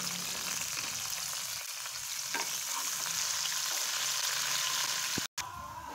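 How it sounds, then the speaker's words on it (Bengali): Onion, garlic and green chillies sizzle steadily in hot oil for an aubergine and potato ghonto, with a constant close crackle and occasional stirring scrapes and no voices. "আমি আলু বেগুনের ঘন্টটা বাগার দেওয়ার জন্য পেঁয়াজ, রসুন আর কাঁচামরিচ দিয়ে দিচ্ছি"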